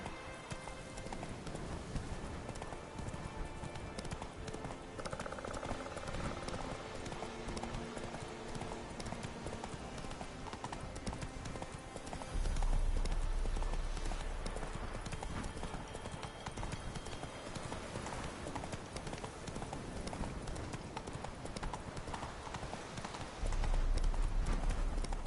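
Roach, the horse in The Witcher video game, gallops with steady, continuous clip-clop hoofbeats over game ambience, with a louder surge partway through.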